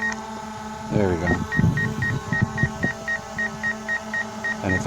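A DJI Mavic Air 2 drone gives a rapid series of short, regular beeps at a steady pitch, with clatter and handling noise at the start and a voice talking in the background.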